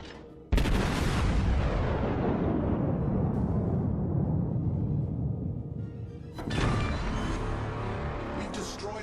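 Heavy battleship main-gun salvos in World of Warships, a huge booming blast followed by a long rumbling decay, then a second loud volley near the end, with a voice talking underneath.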